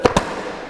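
A knife-scored board snapped apart by hand, giving two quick sharp cracks close together, loud and close, followed by a brief fading tail.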